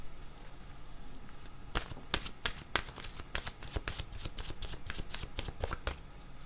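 A deck of oracle cards is shuffled close up in a steady run of quick papery riffles and slaps over faint background hiss.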